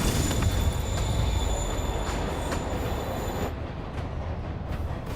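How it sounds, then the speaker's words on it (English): A train moves through the Spider-Man Remastered video game, a loud continuous rumble with squealing high metallic wheel tones over steady low rolling noise, the squeal dropping away partway through. "Train's moving."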